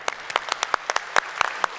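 A conference audience applauds with a brief, sparse burst of separate hand claps, near and fairly loud, with no talking over it.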